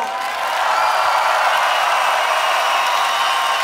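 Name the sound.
festival crowd applauding for Perturbator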